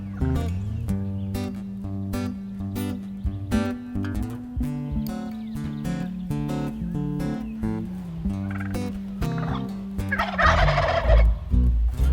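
Wild turkeys gobble repeatedly in loud, rolling bursts, with a busy overlapping chorus of calls and a harsher rattling burst near the end.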